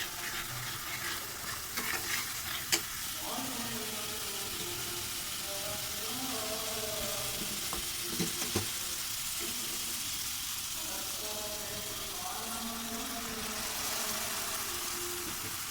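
Spice paste of ground masala, salt, turmeric and red chili powder stirred and sautéing in soybean oil, a soft steady sizzle with occasional spatula scrapes, fairly quiet and continuous with no talking.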